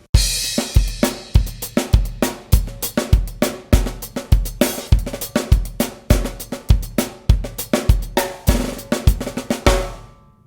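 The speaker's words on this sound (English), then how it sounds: "It's called a soca, and that sounds like this." A drum kit plays a soca beat, the Trinidadian rhythm, with steady punchy kick and snare hits and bright cymbals in a driving, evenly repeating pattern, loud and close, with no voices.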